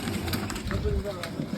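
Pigeons coo at a Meldi Mata temple, their low soft calls mixed into steady nearby crowd noise and talk.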